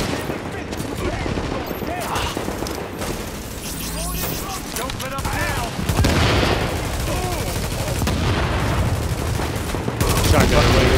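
Sustained gunfire from a shooter game battle against orcs: rapid overlapping shots and bursts over a dense, loud combat bed, with excited voices talking throughout.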